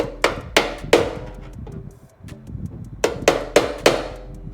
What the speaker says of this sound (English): I think I'm gonna have to hammer this down a little bit more.